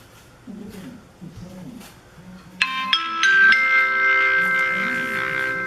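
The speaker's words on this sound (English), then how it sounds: "Text message." A JoyGeek smart watch gives a text message alert: a bright chiming tone rings out after quiet talk and sustains for several seconds, moderately loud and close.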